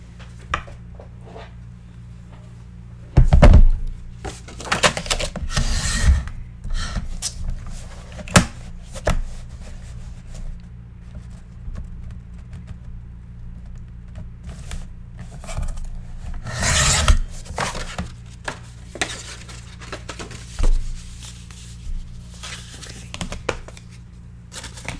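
Paper for a flip book is trimmed with a rasping, rubbing cutter in scattered strokes of varying length, a few louder bursts among quieter scraping, with occasional faint speech in the background.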